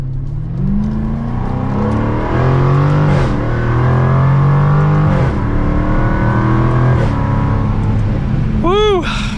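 A 2022 Jaguar F-Type R AWD convertible accelerates hard in sport mode. The loud, close engine note climbs steadily and drops briefly at two gear shifts before pulling up again.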